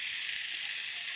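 Beaten egg poured into bitter gourd (ampalaya) sautéing in a hot pan gives a steady, bright sizzle that holds evenly throughout, close and alone with no talking.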